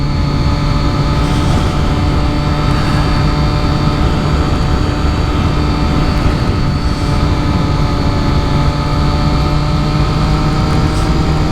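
Yamaha R1 motorcycle cruising down a highway, a loud, steady engine drone with constant wind roar, unchanging in pitch for the whole stretch.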